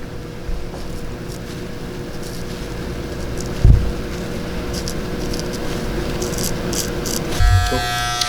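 Electric hair clippers buzz steadily and closely while shaping a beard during a Caesar fade haircut, a constant motor drone with brief louder bumps as the blade meets the hair.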